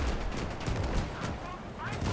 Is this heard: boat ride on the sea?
no